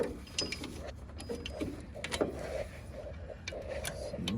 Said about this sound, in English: So I'm just gonna tighten it with the socket now.